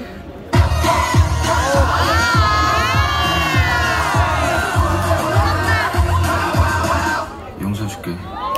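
Street performance crowd in Hongdae cheering, whooping and clapping loudly and steadily, with excited shouts rising over rhythmic applause, tapering off near the end.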